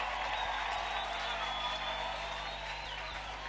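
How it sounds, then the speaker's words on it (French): A church congregation applauds and acclaims during a French-language worship service, a steady, dense wash of clapping and crowd noise held evenly throughout with no break. "Acclamons très fort le Seigneur"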